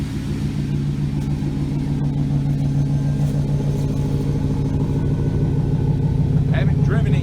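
A 2006 Chevrolet Silverado with a Volant cold air intake idles with a deep, throaty exhaust rumble, steady and close, holding a low droning tone for several seconds.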